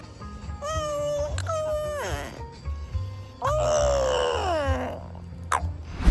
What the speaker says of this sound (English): Hasselhoff saying a lot of nonsense words, French Bulldogs do that as well, using a complex system of yawns, yips and gargles